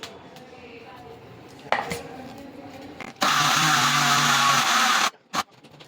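A mixer grinder crushing milk powder and white gravy premix ingredients bursts into a loud, dense whirring roar for about two seconds, preceded by quieter clatter and a sharp knock, and stops abruptly with a short thump after.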